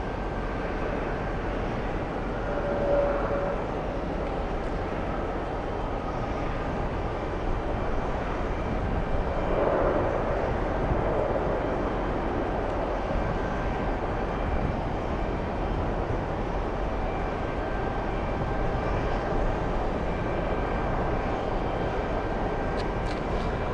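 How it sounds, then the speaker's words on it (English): A UPS cargo plane passes far overhead as a faint, steady engine drone within continuous outdoor background noise, with no talking. "I think we can see the UPS flight."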